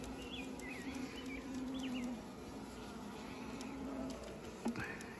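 Honeybees hum steadily at close range during a move from a small split nuc into a ten-frame deep box, with a few louder buzzing passes over the low drone.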